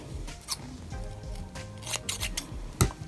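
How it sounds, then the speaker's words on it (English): Scissors trim excess fabric from a handmade scrunchie in a few sharp, close snips, with soft rubbing and handling noise between them and no talk. "As you can see, I'm cutting the excess fabric."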